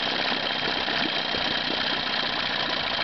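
A Johnson Evinrude 9.9/15 hp outboard motor runs rich, its engine loping and four-stroking in an uneven galloping rhythm, loud and steady up close with no one talking.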